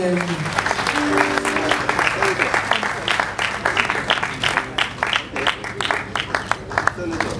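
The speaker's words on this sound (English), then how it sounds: "Can we clap one more time for Chibo?" Lively applause from a crowd at an awards ceremony, with distinct individual claps standing out in an uneven rhythm and a few voices heard briefly near the start.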